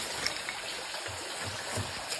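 Clear stream water flows steadily in a soft, continuous trickling babble with a few low gurgles, moderately close and alone with no voices.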